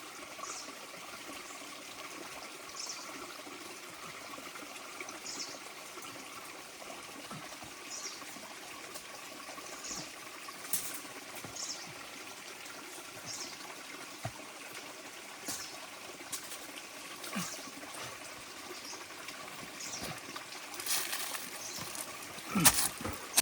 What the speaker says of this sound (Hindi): तो यहाँ से पानी नीचे के हिस्से से होकर जा रहा है।